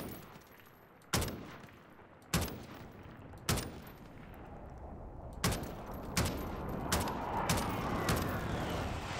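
Odin rifle firing in Call of Duty: Warzone: several sharp, loud single shots spaced a second or so apart, followed by a denser stretch of rapid reports over a rising background rumble.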